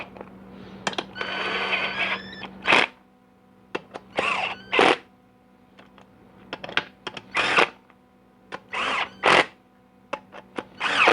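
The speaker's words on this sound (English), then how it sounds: "Run those bolts down." Bolts being run down on a GM 4L80E transmission pump with a power driver or ratchet, a series of short loud buzzing bursts in uneven rhythm over a low steady hum, close up.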